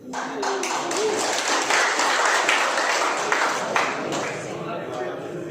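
Applause from an audience of teachers at a guru penggerak information session: sustained, dense clapping from a crowd, steady and fairly loud, with a voice speaking over it.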